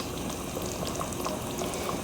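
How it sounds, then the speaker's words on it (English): Homemade Sicilian spaghetti sauce boiling on medium heat in a pot, with a steady soft bubbling and small pops close by, no talking. "You can see the spaghetti sauce is boiling, and it's on like a medium"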